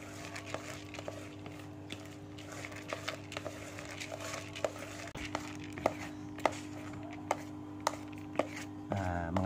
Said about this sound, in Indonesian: Kita aduk-aduk secara merata sampai cairan probiotik yang dicampur airnya menyerap secara merata.